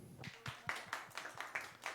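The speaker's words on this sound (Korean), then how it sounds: "여러분 박수" A church youth congregation at a Sunday service applauding, a brief round of faint, evenly spaced claps heard at a distance.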